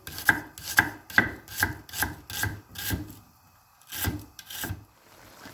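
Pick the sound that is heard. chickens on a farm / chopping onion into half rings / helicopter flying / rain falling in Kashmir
chopping onion into half rings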